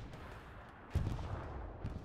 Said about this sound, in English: I'm hearing gunshots in the close by.